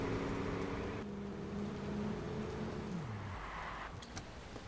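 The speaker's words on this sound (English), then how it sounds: "Fucking rain again, dude." Rain falling in the video game Watch Dogs, a steady hiss of rainfall throughout with a low engine-like drone beneath it.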